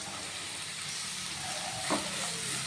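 Onion sautéing in a pan with ginger and garlic on medium flame, giving a steady close hiss and crackle with a brief stirring scrape near the end.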